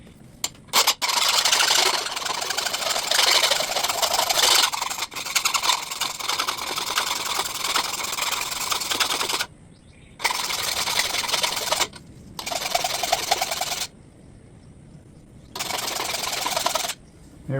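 A file or sharpening stone worked by hand along the edge of an EGO LM2114 lawn mower blade after three years of use, giving loud, continuous scraping strokes in repeated bursts with brief pauses between passes.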